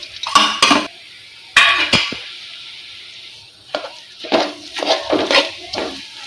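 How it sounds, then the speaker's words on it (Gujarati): A spoon scrapes and clinks against a pan while dates, figs and dry fruits are stirred together over low heat, arriving in short bursts separated by brief pauses. "બધી જ વસ્તુને સરસ રીતે મિક્સ કરી લઈશું"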